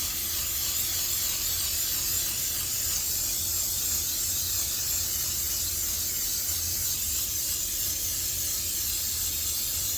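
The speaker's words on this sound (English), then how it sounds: "grease my pan with some non-stick spray." Non-stick cooking spray greases a Twinkie mold baking pan in one long, steady hiss that stays close and even throughout, with no talking.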